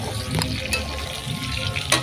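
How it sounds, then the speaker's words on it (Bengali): Fish sizzling as it fries in a pan in a home kitchen, a continuous dense hiss and crackle with a few brief clinks over it, steady and close throughout. "দেখতে পাচ্ছেন একদিকে মাছ ভাজছি"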